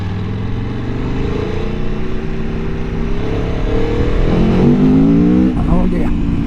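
A 2023 Aprilia Tuono V4 Factory motorcycle with an 1100 engine rumbles and rises in pitch as it revs and pulls away, loud and close, with a rider speaking over it.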